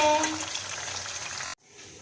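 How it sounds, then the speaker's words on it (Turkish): Köfte and potatoes sizzle in hot frying oil with a steady crackling hiss, fairly close, before the sound abruptly cuts to a quieter background. "Bu şekilde kızarıyor arkadaşlar"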